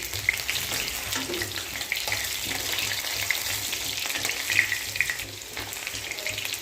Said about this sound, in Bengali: এবার এগুলোকে একটু নাড়াচাড়া করে ভেজে নেব। একটু উল্টে পাল্টে দিচ্ছি।